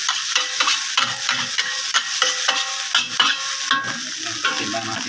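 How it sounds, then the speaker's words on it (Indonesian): Cabbage stir-fried in a wok for meatball fried rice, loud and steady sizzling with repeated rhythmic metal spatula clanks against the pan. "Masukkan kol ke dalam wajan."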